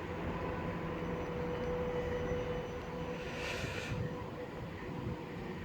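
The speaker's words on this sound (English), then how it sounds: "And there goes a tram" An Edinburgh tram bound for the airport passes at Edinburgh Park with a continuous rolling rumble and a faint steady whine, holding a fairly constant level from start to finish.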